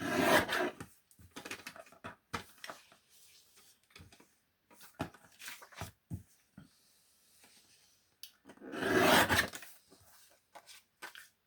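Paper being trimmed off a little letter journal card, with close, dry cutting and rustling bursts scattered through the stretch and a louder, denser burst near the end, no talking.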